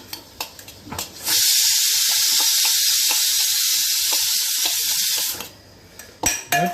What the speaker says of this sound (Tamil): பாருங்க விசில் வந்தாச்சு.